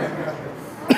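A single short, sharp cough breaks in near the end after a quiet murmur.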